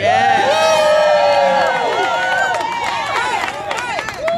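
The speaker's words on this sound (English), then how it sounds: "I want y'all to give a yell and a round of applause to organized labor who is here today." A crowd at an outdoor press conference yells, whoops and applauds for organized labor, loud cheering voices rising and falling over scattered clapping, with a rally chant and whistles near the end.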